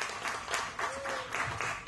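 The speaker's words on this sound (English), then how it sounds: "Please give her a big round of applause." Applause at a social networking presentation greets a presenter, a soft, fairly faint wash of many hands clapping at an even level, with a brief thin tonal whine partway through.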